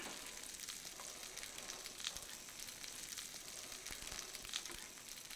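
Soft, continuous sizzling of little cakes frying in a pan on a stove, with faint crackles and pops throughout and no voices.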